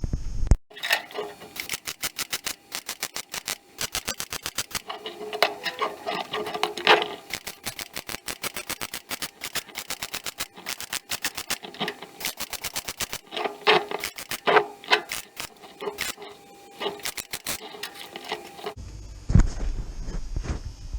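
Repair welding on the rear window frame of a classic Mini produces rapid crackling bursts in short repeated runs, with brief pauses between the runs, close and fairly loud.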